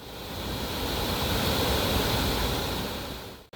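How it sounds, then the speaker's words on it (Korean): Jiktang Falls, a wide, low waterfall of clear water in winter with snow and ice around it, roars as a steady, full rush that swells slightly and holds, heard alone with no voices. "맑은 물이 흐르는 아주 넓은 폭포."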